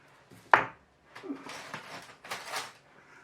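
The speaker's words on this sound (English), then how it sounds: "I think I need sharper scissors." Scissors snipping through material while making a resin Spider-Man night-light lamp, a sharp close snip followed by several softer rustling cuts and handling noises in a quiet room.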